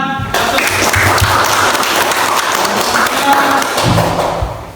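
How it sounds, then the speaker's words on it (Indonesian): A classroom group claps steadily and loudly, filling the room for several seconds during a teacher-training performance session with group discussion presentations, with a few thumps mixed in. "Tepuk tangan."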